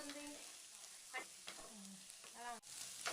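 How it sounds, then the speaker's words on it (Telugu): Potato pieces with chili powder fry in a pan for Andhra-style aloo fry, a soft steady sizzle with brief scraping stirs and clinks, fairly quiet and with no talk. "2 నిమిషాలు ఫ్రై చేసుకోవాలి, లేదంటే కారం పచ్చివాసన వస్తుంది."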